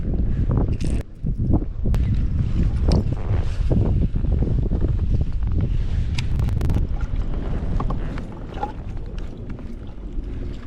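Strong wind buffets the microphone while fishing from a boat on the South Delta, a loud continuous roar with gusty rumble throughout, easing slightly near the end, with no voices.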